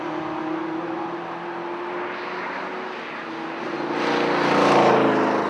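Tuscan race cars at Oulton Park, a steady engine drone that swells louder toward the end as a car passes close by.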